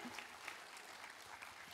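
Audience clapping at a women's leadership seminar in Sabah, a faint, even patter of many hands heard from a distance, with no voices over it.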